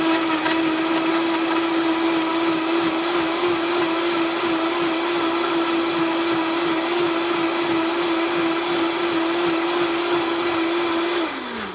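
A countertop blender runs at full speed mixing a green smoothie with ginger, a loud steady whirring drone with a constant motor whine that holds evenly for about eleven seconds before spinning down at the end.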